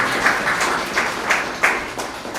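Audience applause for the three candidates at a model debate: steady, fairly loud clapping from a crowd, with a few sharper swells.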